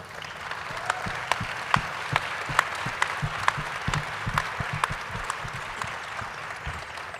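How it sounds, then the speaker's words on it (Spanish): An audience applauds the newly formed ethics council of a foundation at a journalism ethics event, a steady wash of many hands clapping with a few sharper nearby claps standing out, continuous throughout. "Y eso, les digo, merece un aplauso."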